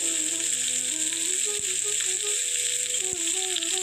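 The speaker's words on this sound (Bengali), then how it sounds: "ভালো করে মিশিয়ে নিচ্ছি" Fried rice being stirred and tossed in a pan, with a steady broadband sizzle throughout and two brief utensil knocks against the pan, alongside faint background tones.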